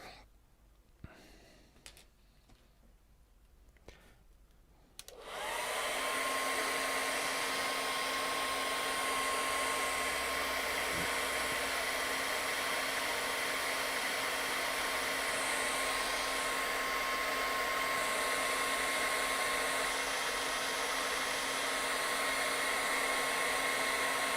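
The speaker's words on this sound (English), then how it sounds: "So I'm going to quickly zap this with a hairdryer." A hair dryer switches on after a few quiet seconds and blows steadily and loudly, a constant whooshing roar with a faint whine, running without a break.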